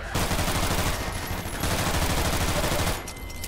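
Alyx's pistol fires rapidly in a Half-Life 2 Ravenholm mod, loud dense bursts of close gunfire running almost continuously before cutting off near the end.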